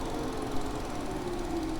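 Hiboy P7 electric bike's 500 watt hub motor straining at full throttle uphill, a steady low whir with a faint rising whine over constant rolling and wind noise, no voices.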